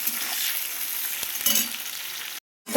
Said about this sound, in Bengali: লাল লাল করে ভাজা ভাজা করবো